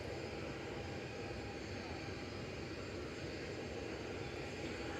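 A Ryanair Boeing 737-800 departing Manchester Airport, flight 2242 bound for Bologna, in low visibility, gives a steady, continuous broadband jet engine roar that holds loud and even throughout without talk.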